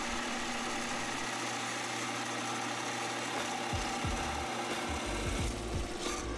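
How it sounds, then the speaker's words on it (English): A workshop dust collector runs with a constant roaring whoosh while wood shavings are vacuumed up, with scattered knocks and rattles of chips being drawn in, close and steady throughout. "even more cathartic vacuuming them up with the dust collector"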